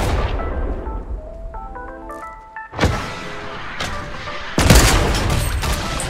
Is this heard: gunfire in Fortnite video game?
yes